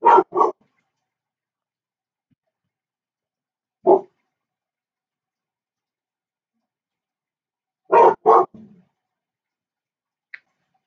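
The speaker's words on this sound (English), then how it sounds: "Sorry about my dogs." Dogs bark at home in short, separate bursts: a quick double bark, then one bark, then another pair, with silence between them and no talk.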